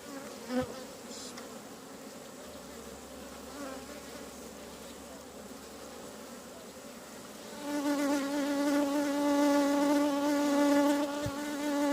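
Honeybees buzz around double-deck hives at feeding time, a dense steady hum of many wings that starts moderate and swells louder and closer partway through, with a couple of brief knocks and no talking.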